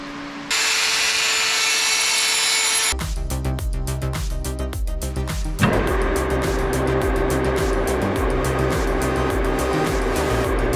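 A power drill bores into an aluminium intake part for a homemade amphibious jet boat, first a steady high whine, then a loud rattling, juddering grind as the bit bites, running continuously and close up.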